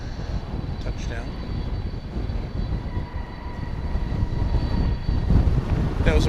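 An American Airlines passenger jet arriving from Los Cabos touches down on a runway at DFW, giving a broad, steady roar that rumbles on throughout and swells slightly louder toward the end.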